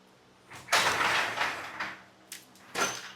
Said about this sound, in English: it's basically just a simple screen door. It's on a track, just like your regular garage door.